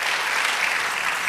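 Church congregation applauding during a Spanish-language sermon, a dense, steady wash of clapping filling the whole moment without a break.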